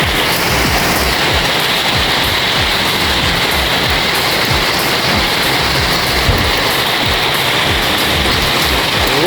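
Large hailstones, about 3 cm across, pelt down during an evening thunderstorm in a dense, continuous roar of clattering impacts that holds loud and steady throughout, with no talking.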